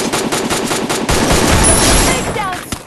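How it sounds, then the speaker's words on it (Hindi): Rapid automatic gunfire in a Free Fire style shooter video game, a string of loud evenly spaced shots followed by a dense, sustained burst of firing and a few final sharp reports up close. "पर तभी मुझे सामने से गन शॉट पड़ते हैं।"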